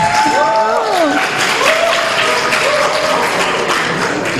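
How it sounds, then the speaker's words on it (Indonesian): An audience at a film forum event claps continuously while voices carry on over the applause. "Tepuk tangannya dong."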